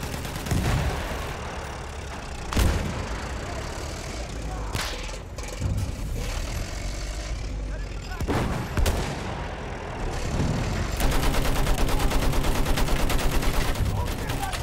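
Gunfire in Battlefield 1, with sharp rifle cracks and heavy thuds scattered across the battle, then a long rapid machine-gun burst near the end, loud and close, with a player speaking briefly in between.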